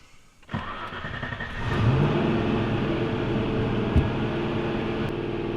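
A TVR Chimaera Turbo cranks and fires up, then settles into a loud, steady high idle with a continuous engine rumble and no talking.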